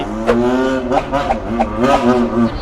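Loud engine revving repeatedly in short bursts, rising and falling in pitch, close by.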